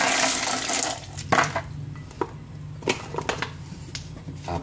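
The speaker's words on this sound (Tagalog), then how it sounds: "Lagyan natin tubig." Water is poured from a tap onto a boiled medallion, a steady running stream broken by a few clinks and splashes, close and alone.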